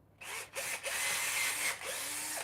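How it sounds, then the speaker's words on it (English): Power drill boring into the sole of a roller skate boot held together with chunky screws, a loud steady whine broken by brief pauses at the start and late on. "you might have to change out your drill bit"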